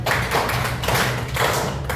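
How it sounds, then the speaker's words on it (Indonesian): A classroom group claps together in short, sharp bursts of hand claps, moderately loud and close, with a steady room hum beneath. "Tepuk tiga kali untuk kita semua ya."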